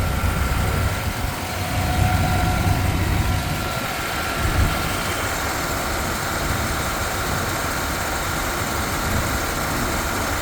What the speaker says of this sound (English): Very quiet running pickup.